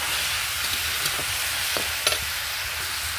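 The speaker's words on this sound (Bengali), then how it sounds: "সেই মুসুরির ডালটা এর মধ্যে দিয়ে দেবো, দিয়ে আবার ভালো করে আমি নেড়ে নেব" Potato, pumpkin and red lentil curry being stirred in a pan, a steady soft sizzle with a few scraping spoon strokes at irregular intervals, fairly quiet and with no talk.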